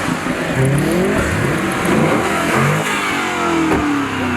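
A car in sport mode revs hard nearby with a bang-the-flow aftermarket exhaust, its engine note climbing and falling through several sharp, loud throttle blips.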